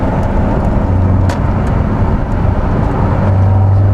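Volvo 480 car driving along with a steady engine drone and road rumble throughout, continuous and close, with no talking.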